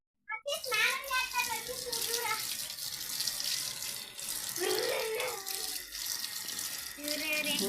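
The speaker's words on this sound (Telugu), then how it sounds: "మరి స్నానం చేపిస్తాను విషులు పోసుకోమ్మ షాడో." Water poured and splashing while a Husky dog is bathed, a continuous running, splashing flow close by with a voice talking over it at moments.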